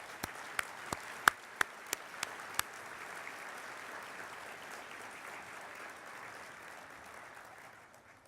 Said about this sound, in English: please join me in welcoming them with a round of applause.